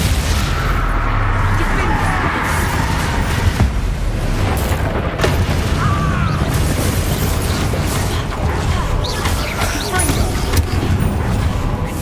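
A Lagium Incendio fire spell erupts in a Hogwarts Legacy duel, a loud, sustained roaring blast with booming crackles and mechanical rumble, while voices shout over the din.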